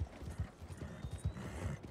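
Horse hooves gallop in a steady clip-clop rhythm through a video game, the beats close and fairly loud with a constant game background beneath.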